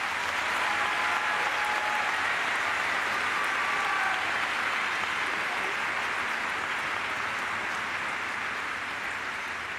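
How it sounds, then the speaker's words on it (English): Sustained applause from a large audience at a Springfield College commencement ceremony, a dense, even clatter of clapping hands that carries on steadily for about ten seconds. "Please join me in a round of applause."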